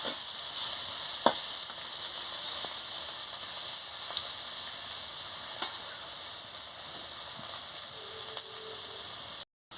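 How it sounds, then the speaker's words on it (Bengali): Gima greens fry in oil in a pan, giving a steady, close hiss and sizzle throughout with occasional soft clicks from stirring, ending in a brief cut. "আর এটাকে ভালো করে লাল করে একটু ভেজে নেব।"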